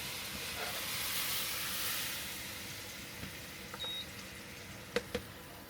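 Soy sauce hits a hot wok with a broad, steady hiss that slowly fades, followed by a few sharp clicks and taps near the end.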